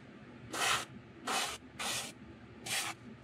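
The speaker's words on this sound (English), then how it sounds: "sometimes spraying directly at the bait won't cover" Spray paint hisses onto a crankbait fishing lure in four separate bursts, each roughly a quarter to half second long with short quiet gaps, close and steady, with no talk.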